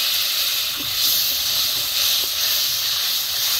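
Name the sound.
spice water poured into hot masala, sizzling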